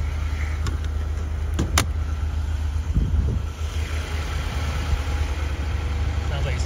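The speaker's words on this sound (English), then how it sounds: "Sounds like it's idling fine." An Infiniti QX56 with a new high-pressure fuel pump idles steadily after starting, its low engine hum close and continuous, with a few clicks and brief shuffling noises and someone speaking nearby.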